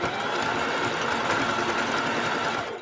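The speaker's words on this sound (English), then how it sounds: "I'm just going to stitch it all the way down again." A sewing machine back stitches along a fabric shower curtain, giving a steady, close, rapid mechanical whir that runs unbroken for about three seconds before easing off.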